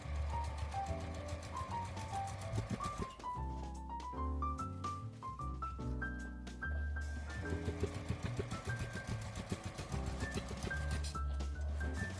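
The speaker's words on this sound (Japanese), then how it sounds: "折り返して表側を縫います。" Sewing machine stitching the outer side of a small fabric pouch, with a steady mechanical running hum throughout, overlaid by clear stepping melodic tones of background music.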